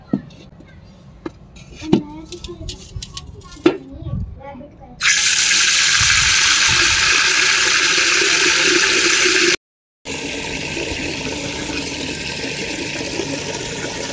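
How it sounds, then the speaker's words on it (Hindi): Water running and splashing from a cracked clay pot used to hold drinking water for birds, a steady hiss that starts abruptly, breaks off briefly and resumes, loud and close, after quieter handling sounds at the start. "ये देखो हमारा मटका यहाँ से लीक कर रहा है।"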